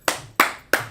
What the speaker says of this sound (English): Clap it up. Put the hand clap up there, Sister Parrot.